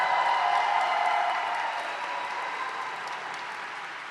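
A graduation diploma ceremony crowd for a university computer science department applauds steadily, a dense wash of clapping that starts full and gradually fades over a few seconds, with no voices on top.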